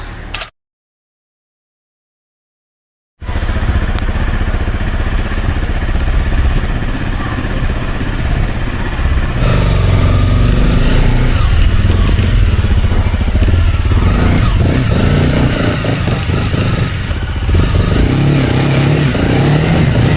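Motorcycle engine on a long-distance ride along a paved road toward the Wakhan Valley, a loud continuous rumble with wind and road noise that starts abruptly after a brief silence and shifts slightly in pitch as the bike gets under way.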